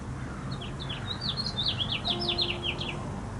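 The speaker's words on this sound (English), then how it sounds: "Taking in the sound of the birds." Several small birds chirp and tweet in quick overlapping bursts, fairly close, over a low steady background rumble.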